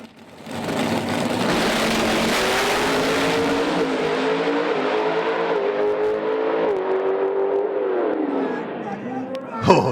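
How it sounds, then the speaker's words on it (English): Pro Stock drag race cars doing a burn down, a loud sustained high-revving engine scream that rises in after a second, holds with shifting pitch for several seconds, then dips and fades, with crowd murmur beneath. "A little burn down with Chris."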